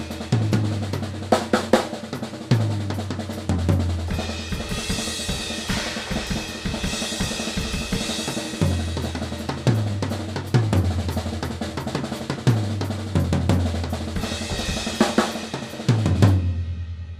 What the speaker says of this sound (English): And you can also mix up the cymbals with the toms